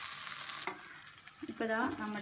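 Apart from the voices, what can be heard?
drumstick (muringa) pieces frying in oil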